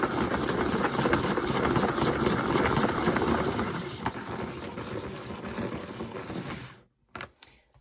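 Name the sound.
salad spinner spinning fast with paint inside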